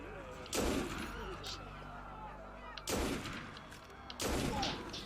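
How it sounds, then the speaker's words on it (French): Three loud rifle shots ring out in the video game Assassin's Creed Unity, sharp booming blasts with echoing tails spaced unevenly over a few seconds, with no talk in between. "Je me prends mon fusil maintenant pour faire un test du fusil. Je vise avec le fusil et je... Shot!"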